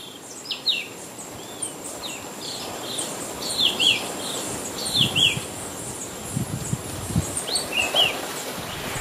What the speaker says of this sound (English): Queen Elizabeth Botanic Park here is brimming with birds.